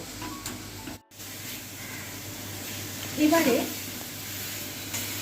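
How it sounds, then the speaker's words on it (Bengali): Spice paste with garlic paste sizzles in a pan as it is stirred, a continuous frying hiss with a brief scraping burst midway, heard while someone speaks. "সম্পূর্ণ মশলাটিকে খুব ভালো করে কষিয়ে নেব।"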